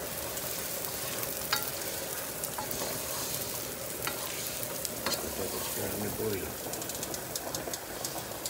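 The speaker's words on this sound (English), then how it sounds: "Give it another stir because we left it for a few minutes." A cooking pot being stirred over the heat, with a steady, close sizzle and soft scraping that runs continuously throughout.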